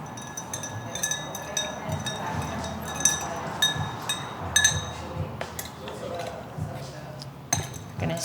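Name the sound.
stirring gin cocktail with ice in mixing glass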